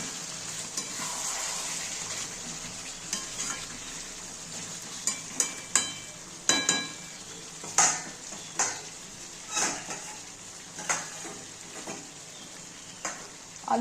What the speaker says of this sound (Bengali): আলুটা দিয়ে আবার একটু নেড়ে দেব।